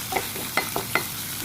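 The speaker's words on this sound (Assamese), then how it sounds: "পিঁয়াজ আৰু নহৰু দি দিলোঁ" Onion and garlic frying in a pan for potato pitika, a short burst of sizzle with several quick stirring scrapes and clinks of a spatula.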